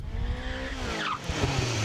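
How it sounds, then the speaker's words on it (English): Tiger-chassis hillclimb race car with a 1600cc four-cylinder engine, run at Gurston Down: a loud, continuous engine roar with shifting pitch and tyre squeal, up close and with no talk. "this is Tony Marlowe's version, which features the 1600cc 4-cylinder Peugeot unit."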